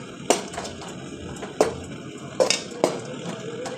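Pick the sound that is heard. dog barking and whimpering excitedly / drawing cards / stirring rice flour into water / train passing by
stirring rice flour into water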